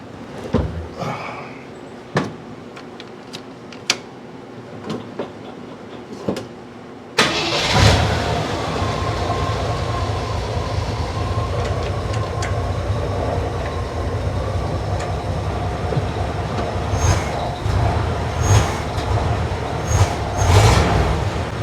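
A cold AMC-era Jeep CJ5 engine cranks and catches after several quiet clicks and knocks, then settles into a loud, steady idle with an occasional stumble, running close by and alone.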